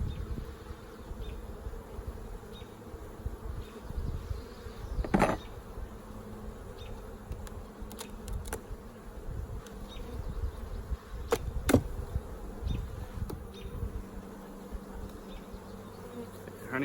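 Honeybees buzz steadily in an opened second brood chamber of a backyard beehive, a dense continuous hum close by with occasional louder passes as individual bees fly near, and no talking.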